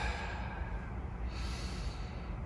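Slow, deep breathing in through the nose during a floor exercise, with the hands placed between ribs and pelvis. A steady airy inhale swells toward the end, close and unaccompanied by talk.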